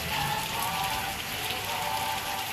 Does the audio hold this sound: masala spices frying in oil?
no